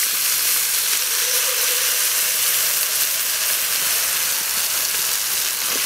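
A pork loin chop seasoned with three spices sizzles on a rocket stove grill, giving a steady, loud, close crackling hiss that runs unbroken from start to finish with no voices.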